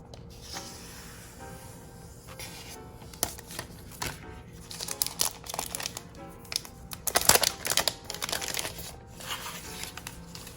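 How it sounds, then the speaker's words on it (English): Plastic wrap being peeled and crinkled off a new 11-inch iPad Pro (2020), close and alone, with steady rustling that grows into louder, dense crackling bursts toward the end. "let's listen to me unwrap it."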